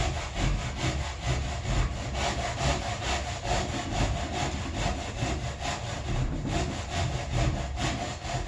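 A hand saw cuts a double locking over-hand lap joint in wood, its close, steady back-and-forth strokes rasping evenly and continuously with no talk.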